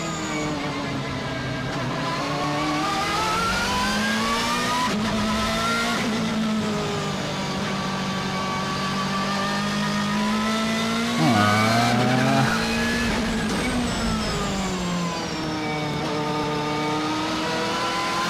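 Race car engine revving hard through gear changes in Need for Speed Most Wanted, with a brief tire squeal near the end; loud, continuous and close, no voices.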